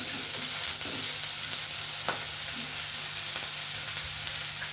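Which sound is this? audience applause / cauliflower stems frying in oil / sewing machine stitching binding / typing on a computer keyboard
cauliflower stems frying in oil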